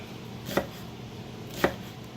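Two crisp knife chops through mushroom on a cutting board for a BBQ mushroom burger, evenly spaced about a second apart, close and clear over a quiet room with no talk.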